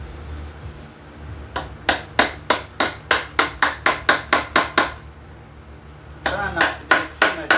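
A hammer strikes a chisel into walnut wood outdoors, landing as a run of sharp, evenly spaced cracking blows with a short pause and then another quick burst of hits, close and loud.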